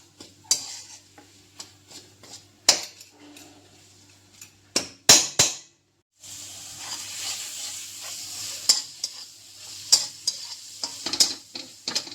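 Grated coconut stirred and sautéed in a pan for Bengali prawn malai curry, with a steady sizzle, spatula scrapes and clinks against the pot, and a brief pause midway.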